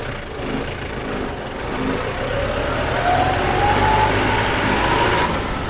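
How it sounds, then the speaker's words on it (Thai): A Yanmar YM358R tractor engine in third gear drones steadily and builds gradually as it accelerates, its pitch climbing slightly partway through, with no talking. "อันนี้เกียร์สามนะครับ คือ ค่อนข้างแรงอ่ะ ตัวนี้ เหยียบคันเร่งปุ๊บปั๊บปุ๊บปั๊บ"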